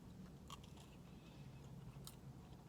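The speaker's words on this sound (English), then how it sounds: "Can you hear me crunching?" Close, faint crunching bites into a Panera Bread cinnamon crunch bagel, with a few crisp snaps over soft chewing and no talking.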